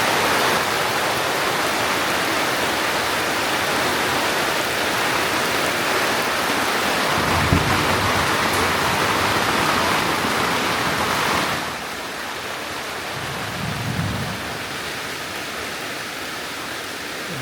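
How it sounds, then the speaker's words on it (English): Very heavy rain pouring outside a treehouse, a dense, loud, unbroken hiss of downpour, slightly quieter in the final seconds, with a couple of low thuds. "never heard it rain this hard"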